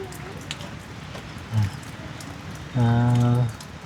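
Steady rain falls in a continuous wash of patter, with a couple of short voiced sounds breaking in over it.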